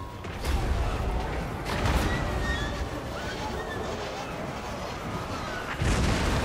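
Artillery fires on a Total War: Warhammer battlefield as heavy booming blasts land at the start, around two seconds and near the end, over a rumbling, clattering battle background.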